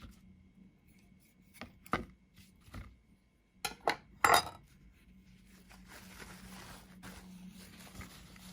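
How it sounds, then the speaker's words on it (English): An aloe vera leaf is cut into small pieces on a board, several sharp knife chops spaced irregularly then a quick cluster, followed by softer scraping and handling noise close by. "So I'll just cut it into smaller pieces, then clean them thoroughly."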